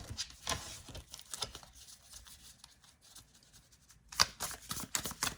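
Tarot cards being shuffled by hand, soft rapid riffling and patter in faint, uneven bursts with a sharper flurry near the end, heard alone without talk.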